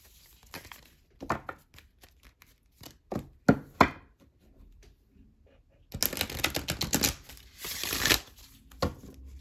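Oracle cards shuffled and pulled from a deck, first a few sharp individual card snaps, then a dense, close riffling flutter, all without talking.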